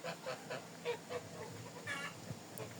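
Large grey geese honking in a rapid series of nasal calls, moderately close, with a second burst of honks a moment later and no talking.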